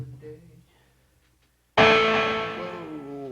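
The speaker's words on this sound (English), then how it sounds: "lots of distortion noise because I have it set to some distorted tone" An electric guitar set to a heavily distorted tone rings out in one loud, sudden struck chord that sustains and slowly fades, after a quiet stretch with faint murmur.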